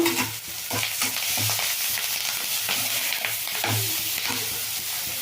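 Curry leaves, spices, salt and tamarind frying in a pan for a brinjal dish: a constant sizzle with repeated scraping stirs and low thumps of the spatula, close, no talking.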